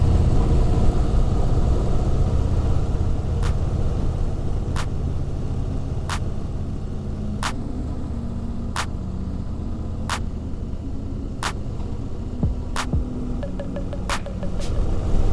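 Motorcycle riding up a monsoon ghat road in Kerala, with a steady low engine drone and rushing wind, marked by evenly spaced sharp clicks or ticks.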